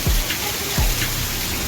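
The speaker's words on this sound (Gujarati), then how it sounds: "વરસાદ સાથે કરા પણ ચાલુ થઈ ગયા છે" Rain mixed with hailstones falling in Kutch, heard as a dense, steady hiss of drops and pellets striking surfaces nearby, with a couple of low thuds, no voices.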